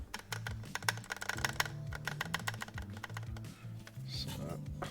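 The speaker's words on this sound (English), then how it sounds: "all of those keys sound fantastic" Rapid clacky typing on an NK65 mechanical keyboard fitted with NovelKeys keycaps, close and crisp, with irregular bursts of keystrokes and a few deeper thocks from larger keys.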